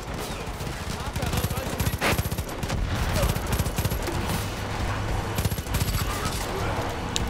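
Bursts of rapid gunfire and single shots crackle loudly throughout a Far Cry 5 firefight, dense volleys with brief gaps, over a steady game backdrop.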